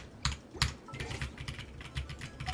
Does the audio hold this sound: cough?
no